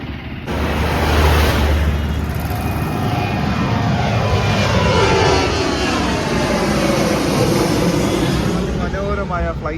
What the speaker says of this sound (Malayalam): മനോഹരമായ ഫ്ലൈറ്റ് പോകുന്ന വ്യൂ ആണ് ഗൈസ്.